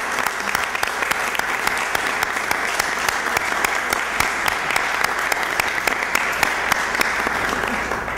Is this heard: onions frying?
no